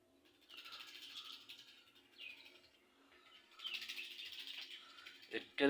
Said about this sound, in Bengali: পাখির জন্য দেখুন কি একটা শব্দ শুরু করছে